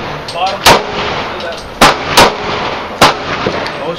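Sig Sauer Mosquito .22 pistol fires four sharp, loud close-range gunshots, irregularly spaced, over a steady hiss of outdoor background noise.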